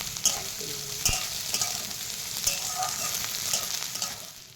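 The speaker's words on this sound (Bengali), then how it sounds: "এইবার পেঁয়াজ কুচিটাকে হালকা একটু নেড়ে চেড়ে নরম করে নেব" Chopped onion frying and softening in a pan, a steady soft sizzle broken by several sharp scraping knocks of a spatula stirring, close and moderately loud with no talking.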